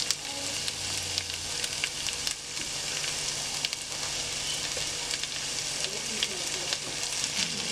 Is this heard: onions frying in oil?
yes